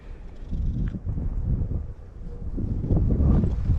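Gusty wind buffets the microphone outdoors during a hand-launched test flight of a Dark Star EDF RC jet airplane, a continuous low roaring rumble that swells and dips, loudest toward the end.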